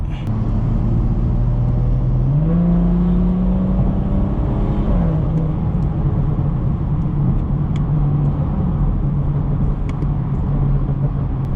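A modified BMW 440i in sport mode pulls hard through city streets, its engine note climbing steadily in pitch, then settling into a loud, continuous drone close to the cabin.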